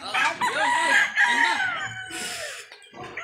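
Roosters and hens on a farm: a loud, close rooster crow rises and falls, followed by another crow and some clucking, with faint background noise between calls.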